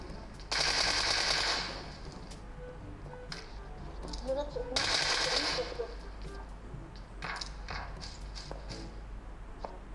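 Automatic gunfire in the mobile shooter game PUBG Mobile, played on a Realme 5 Pro: two loud rapid bursts of about a second each, followed by scattered single shots and faint footsteps, with a voice talking underneath.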